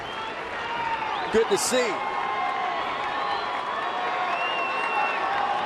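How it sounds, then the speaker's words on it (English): A baseball crowd at Petco Park in San Diego keeps up a steady, lively roar throughout, with a brief burst near the middle, while a commentator talks over it. "Crowd here at Petco a little excited."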